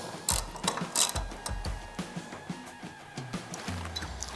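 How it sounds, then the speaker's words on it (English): Ratchet tightening a floorboard mount bolt on a 2022 Harley-Davidson Low Rider ST, rapid clicking pawl bursts in short strokes, close and distinct, with some clunks between strokes. "you just tighten this down and then tighten down the one underneath"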